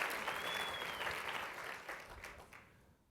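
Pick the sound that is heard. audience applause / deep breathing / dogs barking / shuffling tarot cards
audience applause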